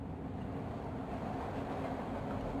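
A train rumbles steadily in the Broken Sword adventure game, a continuous low, dense rolling noise with a faint high whine, constant in level and with no voices.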